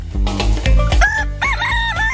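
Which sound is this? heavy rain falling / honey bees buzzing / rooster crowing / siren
rooster crowing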